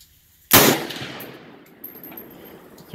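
A single loud Bear Creek Arsenal 7.62x39 rifle shot cracks out sharply and close, then a long decaying echo rolls across the range.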